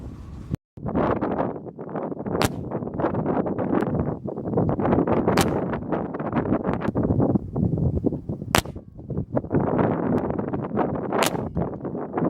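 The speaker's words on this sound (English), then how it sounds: "we're going to take a couple shots at 25 yards, get the scope sighted in, and see the accuracy of this gun" Shots from a Benjamin Discovery .22 caliber PCP air rifle at 25 yards outdoors, several sharp cracks spaced a few seconds apart over steady wind noise on the microphone.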